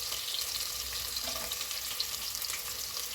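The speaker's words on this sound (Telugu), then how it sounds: "ఇవి వేగుతున్నాయి కదా." Onions, carrots and beans frying in a pan for vegetable rice, a close, steady bright sizzle that crackles continuously with no talk over it.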